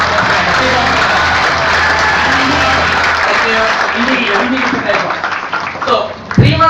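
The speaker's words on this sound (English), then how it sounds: "a big round of applause for that" An audience applauds continuously and loudly, a dense sustained patter that rises briefly near the end.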